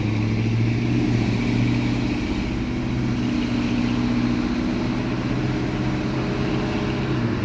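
A 1968 Ford F250 Ranger pickup driving on the road, its engine giving a steady, loud low rumble heard from inside the cab without a break.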